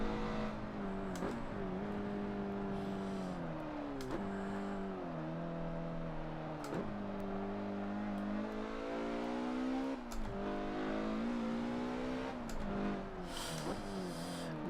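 Mazda MX-5 Super20 race car engine in Forza 7, steadily droning at high revs with repeated gear shifts that drop and climb the pitch through a timed lap, no talk.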